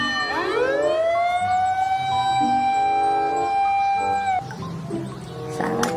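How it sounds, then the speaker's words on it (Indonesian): Toy fire truck siren, an electronic wail that sweeps up sharply and holds a steady tone for about four seconds before cutting off, loud and close, followed by brief clatter. "ada mobil pemadam kebakaran"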